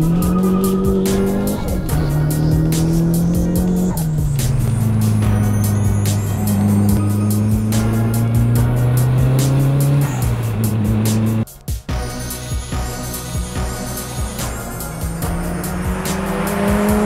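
A naturally aspirated 2003 Mitsubishi Eclipse with a 4-cylinder 2.4-litre engine drives hard on a track, its engine note rising and falling through gear changes with tires squealing, loud and close throughout.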